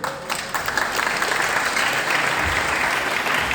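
Warm, sustained applause from an audience in a church hall at a gathering led by a pastor: dense, steady clapping that fills the room from start to finish, with no voices on top.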